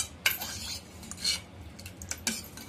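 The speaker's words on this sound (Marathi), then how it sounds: "नंतर झाकण काढलं." A pressure cooker lid is taken off after cooking dal, a few metallic clanks and scrapes of the lid against the pot, fairly quiet, with gaps between the knocks.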